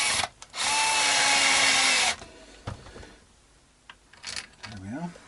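A power drill driving screws into the pickguard of a Fender Richie Kotzen Telecaster gives a short whirr, then a steady loud buzzing run of about a second and a half that stops abruptly, with soft handling noises and a voice afterward.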